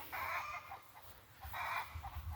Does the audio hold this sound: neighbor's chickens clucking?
yes